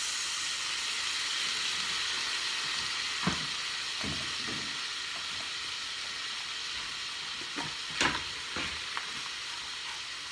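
Beans and vegetables sizzle steadily in a hot pan as fish sauce goes in, with a continuous frying hiss broken by several sharp bursts of stirring and spattering.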